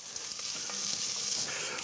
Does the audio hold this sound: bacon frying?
yes